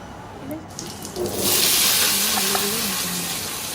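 Dhoka lentil cakes fry in hot oil with a soft, close sizzle that swells and holds steady, faint under light kitchen noise.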